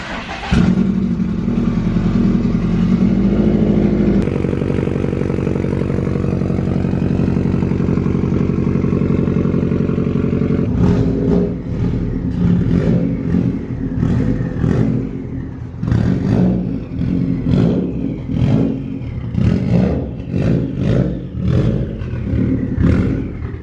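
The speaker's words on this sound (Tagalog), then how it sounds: "Cold start." A Subaru STI engine cold-starts in neutral and settles into a loud, rough idle, then gives a series of sharp, repeated revs that rise and fall close to the car.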